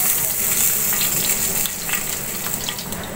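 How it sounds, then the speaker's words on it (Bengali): Fish fries in oil as it is cooked for fish bharta, a loud, close sizzling crackle with faint stirring and no talking. "মাছ ভর্তার মাছ এত বেশি ভাজার দরকার নেই, হালকা লাল করে ভেজে নিলে হয়।"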